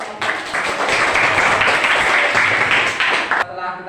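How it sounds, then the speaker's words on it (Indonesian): Students in a classroom break into steady clapping for a group, dense and even for several seconds before stopping abruptly. "berikan tepuk tangan untuk kelompok."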